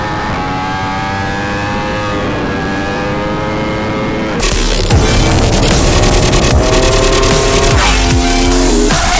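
A Ducati Hypermotard 950 SP motorcycle winds up through rising revs, then accelerates hard with a loud, raspy roar and climbing engine harmonics, close and intense amid strong wind rush.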